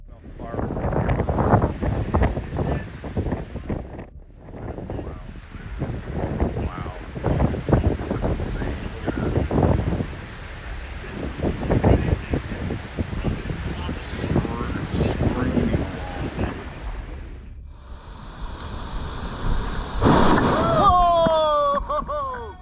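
Hurricane Ian storm winds in Punta Gorda, Florida: a constant loud roar of gusting wind buffets the microphone, with a voice talking through much of it and a brief lull near the end.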